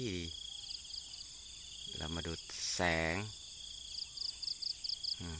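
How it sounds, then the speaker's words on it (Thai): Crickets chirp continuously in a rice field in the early morning, forming a dense, even insect drone. Someone speaks briefly over it, and any bird calls are hard to pick out. "ทุ่งนายามเช้า มีเสียงจิ้งหรีด มีเสียงนก ร้องด้วย"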